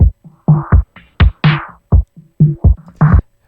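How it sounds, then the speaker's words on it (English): Short bursts of heavily filtered audio in Ableton Live's EQ, boosted lows shifted in frequency, giving choppy, muffled, thumping fragments with gaps of silence between them. "That kind of sounds like a filter."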